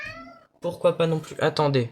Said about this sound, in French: Désolé, c'est mon chat, il fait des bêtises.